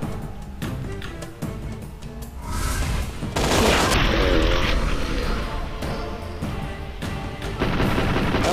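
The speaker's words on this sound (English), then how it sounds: "Just use the pistol for the headshot, use your MP5 to kill the regular guys." Dense, continuous video game gunfire from an MP5 submachine gun and a pistol in a gas-trap monastery fight, loud rapid shots layered over explosions and steady background noise.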